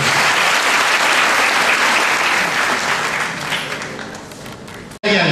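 Audience applause for jury members at a Manisa gala event, a loud, dense burst of crowd clapping that holds steady for about five seconds before tapering slightly and cutting off.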